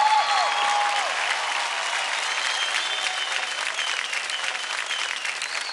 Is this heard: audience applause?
yes